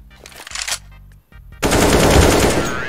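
Automatic rifle fire in the video game CS:GO: a loud, dense burst of rapid shots runs for over a second at the end, after a few scattered in-game sounds. No one speaks.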